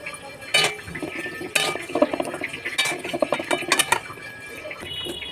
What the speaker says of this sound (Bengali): এবার আমি বাটিতে তুলে নেবো।